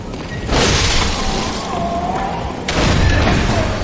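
A shotgun-wielding old hunter enemy in the video game Bloodborne fires twice, each loud booming blast spreading into a broad rumbling tail, the second shot a few seconds after the first.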